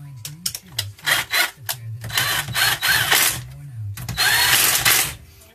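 Power tool running 10mm bolts down on a 4L60E automatic transmission during a rebuild, a series of short whirring bursts in quick succession, close and fairly loud, with someone talking between and over them.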